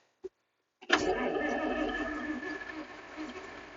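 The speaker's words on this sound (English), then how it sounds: "It wouldn't be a John Deere if it didn't need half a can of ether to get fired up" A John Deere 6600 combine engine cranks over after a dose of ether, catching with a sudden rough roar that settles into a loud, ragged idle, preceded by a single brief click.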